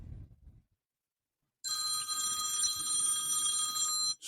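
A mobile phone rings with a bright, steady electronic trill that starts after a brief bit of low noise and a pause, then holds loud and unbroken for a few seconds before cutting off.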